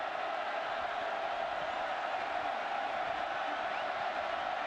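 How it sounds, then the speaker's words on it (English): A Bird Stadium football crowd at Maryland, with Clemson on offense, roars in a steady, dense wall of voices that holds at full volume throughout. "this Bird Stadium crowd is getting vocal"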